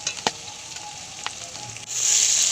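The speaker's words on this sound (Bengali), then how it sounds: "টমেটোটা দিয়ে বেশ কিছু নাড়িটা দিয়ে কষিয়ে নেব" Chopped tomatoes fry with garlic paste in a pan, with scattered stirring taps over a low sizzle that swells into a loud, steady hiss near the end.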